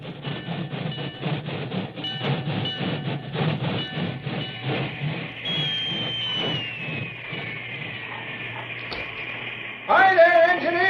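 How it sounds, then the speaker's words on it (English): A work train chugs steadily with rhythmic puffs, arriving on the main track beside a telegraph station, then an engine whistle sounds and holds, followed by a louder shrill blast near the end. "an engine whistle announced the work train's arrival on the main track"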